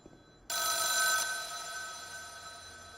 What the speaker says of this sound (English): we're supposed to answer the phone first